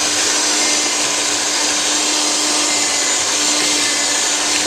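Electric mixer running steadily while holiday treat ingredients are mixed, a constant loud whirring hum with a steady pitch, alone and unbroken for nearly five seconds.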